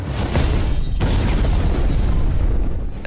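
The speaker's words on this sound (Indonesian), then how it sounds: "misil pun terkunci hingga ledakan terjadi tanpa ada Baghdadi di dalamnya" A loud, sustained missile explosion roars with deep rumbling energy, followed by crackling debris and a gradual fade toward the end.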